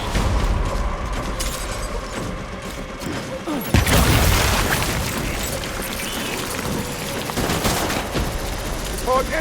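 Heavy gunfire and booming blasts from a fight in the video game Death Stranding, a loud sustained barrage with a sharp burst near the middle and continuous rattling volleys throughout.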